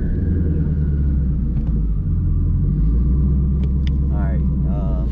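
A 2018+ Ford Mustang with the 10-speed transmission idles with a steady low rumble under light throttle, rising slightly, with faint chirps and a voice briefly over the engine.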